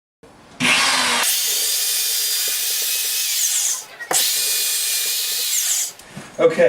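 A power drill bores bracket mounting holes into a wall in two long, steady high-pitched bursts separated by a short break, loud and close with faint handling noises.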